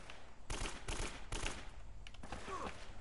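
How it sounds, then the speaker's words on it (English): Gunfire in the action video game Uncharted: rapid bursts of automatic shots crackle in clusters with short gaps between volleys, fairly dense and sustained, with game sound effects layered underneath. "Bro, how many shots do you take?"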